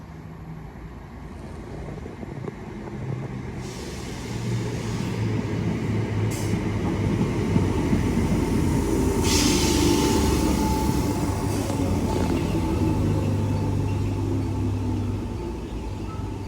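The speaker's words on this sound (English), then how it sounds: "Train now arriving is a 319 going to Liverpool Lime Street." A class 319 electric train bound for Liverpool Lime Street rolls into Rainhill station, a steady low rumble and wheel noise that builds and holds for the whole stretch with no talk.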